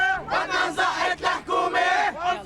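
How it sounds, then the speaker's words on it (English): Crowds of opposition protesters fill the streets of Beirut with loud, rhythmic chanting in unison, rising and falling in repeated phrases from a large group nearby. "Crowds of people supporting the opposition proposals poured into the streets."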